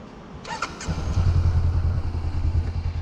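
A Honda CB500 motorcycle engine starting: brief starter clicks and cranking, then the engine catching and settling into a steady, close, throbbing idle, no voices.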